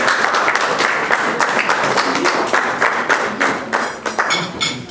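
Audience applause in a hall at the Hotel Westminster in Paris, a dense burst of clapping close by that keeps going for several seconds with uneven swells.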